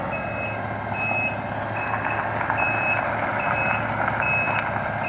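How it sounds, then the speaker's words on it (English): A fish stocking truck backs down to the water, its reversing alarm beeping in a regular pulse over the low rumble of the idling engine, close and without talk. "waiting on the driver from Gollon Fish and Bait Farms to back the truck down here to the water"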